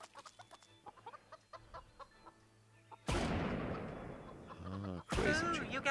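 Cartoon chickens cluck in the Family Guy video game, first as light, quick clucks, then under a sudden loud burst of gunfire and game noise, with another blast near the end.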